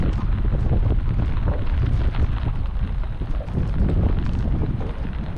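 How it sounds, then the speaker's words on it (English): Wind gusts across the Seisia campsite at the tip of Cape York in wet, rainy weather. The wind buffets the microphone with a loud, rumbling roar that rises and falls continuously, with no talking. "It's raining, it's windy."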